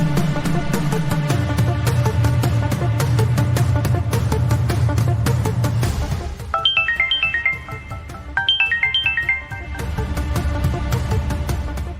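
A mobile phone ringtone plays loud and steady, with a repeating electronic melody and several bright repeated note phrases partway through, alone without talk.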